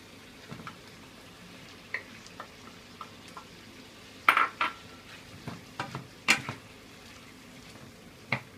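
Spatula scraping and clinking in a small pan as minced pork and corn stir-fry over a low sizzle, with scattered stirring knocks at an irregular pace, close by and without talk.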